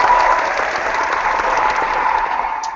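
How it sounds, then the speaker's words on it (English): A short round of applause from a small audience, steady and fairly close, with dense clapping throughout and no voices over it. "Let's give them a round of applause."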